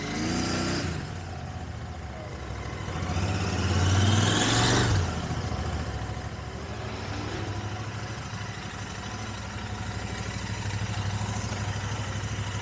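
A Royal Enfield Continental GT 650 twin-cylinder motorcycle rides with a sidecar, its engine droning steadily and swelling into a louder pass midway before settling back to a continuous mid-pitched rumble.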